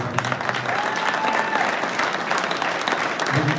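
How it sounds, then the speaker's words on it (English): An audience at a fishing national championship awards gathering breaks into applause for Christy, a brief, dense burst of clapping heard clearly for a few seconds. "You guys give her a round of applause"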